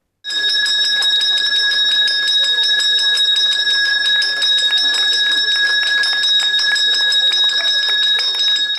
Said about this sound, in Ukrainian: Цього дзвоника з нетерпінням чекали школярі, батьки та вчителі.